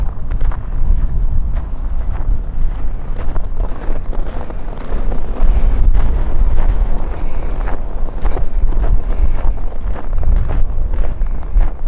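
Strong wind buffeting the microphone on a winter street in Livingston, Montana, a loud, continuous low rumble with gusty swells and faint footstep-like ticks, no talk.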